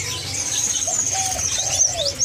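Songbirds at an Indonesian bird market, with several high chirps and whistled calls overlapping over a low background murmur, fairly loud and close, some calls sustained and others short.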